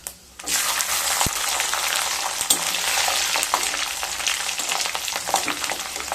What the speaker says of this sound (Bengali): রসুনগুলোকে হালকা ভেজে নেব।